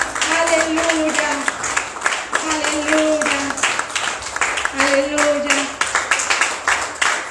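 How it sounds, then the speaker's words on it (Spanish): Church congregation clapping steadily and loudly throughout, broad dense applause beneath singing and chanting voices of worshippers. "Te ofrendamos este fuerte aplauso, Señor."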